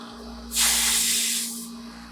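Refrigerant gas escaping from an air-conditioning line in a short, loud hissing spray that swells suddenly, holds for about a second, then tapers off over a steady low hum.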